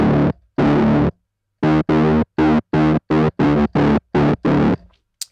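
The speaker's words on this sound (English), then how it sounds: "my favorite thing is to put heavy distortion on, to add that grit and focus" A synth plays a series of short notes through heavy, gritty distortion from the Fury distortion plugin. The notes are loud and buzzy and separated by clean silences.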